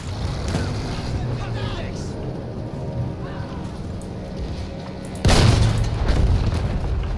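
Artillery shells explode in the World War I shooter Battlefield 1, with low rumbling battle noise and scattered impacts building to one loud, close blast near the end, then heavy echoing aftermath.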